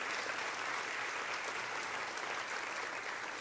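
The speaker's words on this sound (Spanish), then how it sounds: "Den un aplauso al Señor por todo lo que Él está haciendo entre nosotros." A church congregation applauding together, a dense, continuous wash of many hands clapping at even loudness, with no voices over it.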